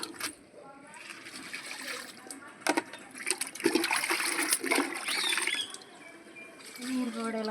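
Compost-mixed water is poured from a can onto terrace garden plants, making a running, splashing trickle that rises and falls, while someone talks over it.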